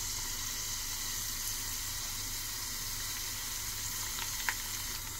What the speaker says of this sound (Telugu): తర్వాత వచ్చి కరివేపాకు వేసుకోవాలి.